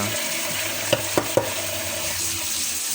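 Tilapia sizzling in hot oil, a steady crackling fry with three quick clinks or taps partway through.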